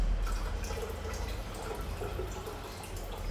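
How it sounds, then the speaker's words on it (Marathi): Hot water poured into a pot of chicken dalcha gives a steady, close liquid rush and trickle over a low background rumble, with no talking. "आणि उरलेलं पाणी मी गरम टाकणार आहे"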